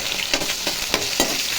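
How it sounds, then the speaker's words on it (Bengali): Onion tempering hisses in hot oil in the pan used for the dried phaisa fish, a continuous close sizzle pulsing with regular stirring strokes, no voices. "এখানে পেঁয়াজ ফোড়ন দেবো"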